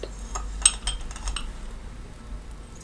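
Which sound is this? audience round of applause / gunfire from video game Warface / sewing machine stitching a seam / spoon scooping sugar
spoon scooping sugar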